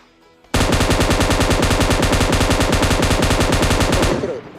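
Rapid sustained bursts of M249 machine gun fire in a video game, loud and close, a long unbroken rattling volley that starts abruptly and runs about three and a half seconds before cutting off.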